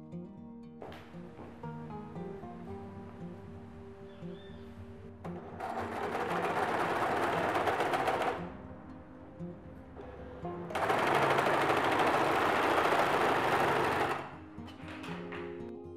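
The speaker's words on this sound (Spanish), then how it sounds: "vamos a coser a medio centímetro con costura recta o con overlock" Two long bursts of a sewing machine running a straight seam on fabric for a pair of Christmas-themed panties, a fast even whirring stitch, close and steady, with quiet handling between runs.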